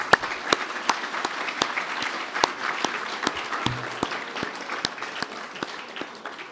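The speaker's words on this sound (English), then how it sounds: "please give them a huge round of applause" A large audience at a national safety awards gala luncheon gives a sustained round of applause for winners, sponsors and presenters. The clapping is dense and even, with crisp individual claps standing out near the listener.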